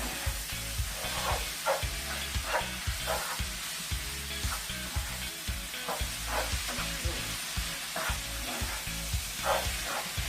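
Onions fry in butter in a pan while beef Wellington is being prepared, a steady close sizzle with soft rhythmic scraping from stirring all the way through.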